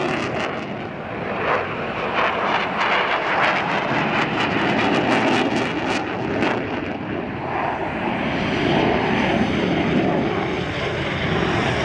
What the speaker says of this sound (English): This fighter jet being chased by another fighter jet.